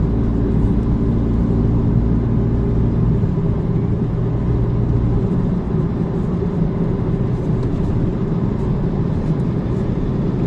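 Inside a Ford EcoSport with a faulty dual-clutch gearbox on the road near Cianjur, a steady loud low engine drone holds throughout, with the revs rising slightly partway through.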